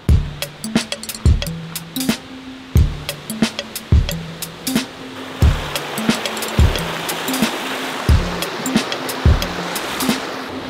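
Running water at a recreational area along the Georgia Traverse, a steady wash of flowing stream noise with regular thumping, tonal pulses repeating over it throughout.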